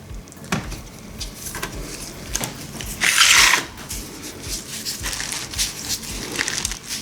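A plastic pot holding a Dendrobium Berry Oda orchid is squeezed by hand to loosen the roots, producing close, soft crinkling and crackling with one louder crunch in the middle.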